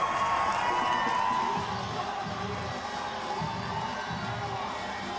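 A huge crowd lining Central Park cheers runners in the 2011 New York City Marathon, a steady roaring wash of voices and whoops that stays fairly even throughout, with no clear speech on top.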